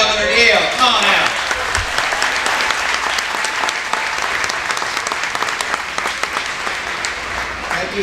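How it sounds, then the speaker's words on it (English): A crowd of Cobb County Republicans applauds loudly and steadily at a July 4 Independence Day gathering as Governor Deal comes out, with dense clapping and some voices mixed in throughout. "Give a huge round of applause to Governor Deal."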